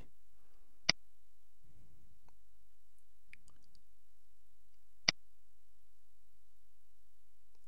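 Two sharp, isolated computer mouse clicks, about four seconds apart, sound close and crisp against near silence, with a few faint soft rustles in between.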